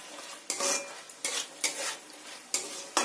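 Sliced onions frying in a pan with cinnamon for chicken curry, stirred in close, repeated scraping strokes over a constant crackling sizzle.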